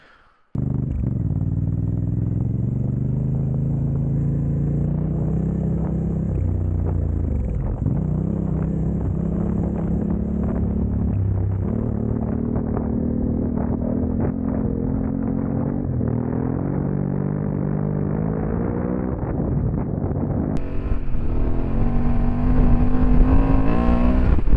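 Vehicle on new Tusk 2Track adventure tires climbing a dirt fire road: a close, continuous engine drone that rises and falls in pitch with throttle changes, rumbling steadily with gravelly texture and a brief louder surge near the end.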